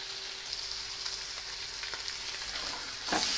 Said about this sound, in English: I'm dry frying this